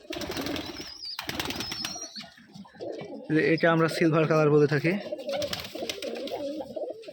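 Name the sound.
pigeons cooing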